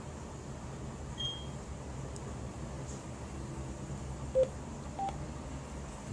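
A SuperTooth Disco 4 Bluetooth speaker plays two short, faint electronic beeps in quick succession as it pairs, over a steady low background hiss.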